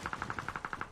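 A quick burst of about ten evenly spaced automatic shots in a video game, faint and slightly distant, rattling off in a steady rhythm with no voice over it.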